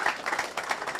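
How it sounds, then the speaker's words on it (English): Applause from a conference audience after a keynote, a steady patter of clapping at moderate level with no talk over it. "A round of applause for Samtasa."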